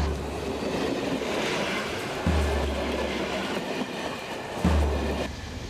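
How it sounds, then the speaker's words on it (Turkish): A train rolls along with loud, steady rail noise and a rumbling hum, broken by a couple of heavy clunks from the cars. The sound continues near and fairly loud throughout. "Tren durdu."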